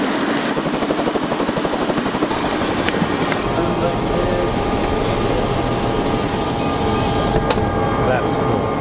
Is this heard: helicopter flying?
yes